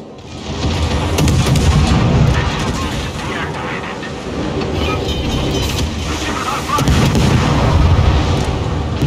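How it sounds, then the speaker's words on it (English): Naval gun salvos boom from warships in the World of Warships video game, a dense stream of heavy overlapping blasts and rumbling explosions that stays loud throughout, with a voice talking beneath. "Fu, if you can, fire on the Demois."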